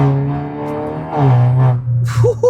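A Hyundai turbo petrol car with a dual-clutch gearbox pulls away under hard acceleration, its engine droning loud and close, the pitch climbing then dropping at a gear change before rising again.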